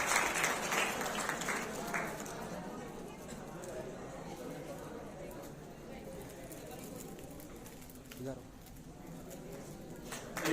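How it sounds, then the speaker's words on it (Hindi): Applause from the audience at a talent award ceremony, strongest in the opening seconds and then fading to scattered claps and room noise, with a voice speaking. "एक बार जोरदार ताली"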